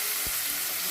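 Tomatoes sautéing with onion in a pan for a sprouted moong bhaji, a steady close sizzle and fry hiss with a brief stir thump, no talk.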